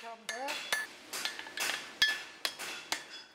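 A farrier's hammer strikes metal in sharp ringing clanks, roughly one every half second, close and fairly loud, with a brief voice at the start.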